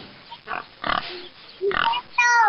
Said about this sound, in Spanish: Bien, era el cerdo.